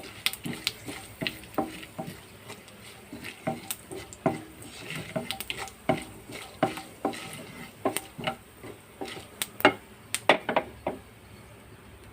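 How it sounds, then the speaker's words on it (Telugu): Dried red chillies fry on a low flame for a coconut chutney tempering, with a spoon clicking and scraping against the pan in an irregular stream of sharp taps over a faint background. "ఎండుమిర్చి అన్నీ కూడా పోపు స్టవ్ సిమ్లో పెట్టుకుని వేయించుకోవాలి"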